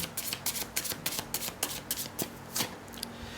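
A deck of tarot cards is shuffled close by in quick, repeated riffling bursts, crisp and papery, against a quiet room.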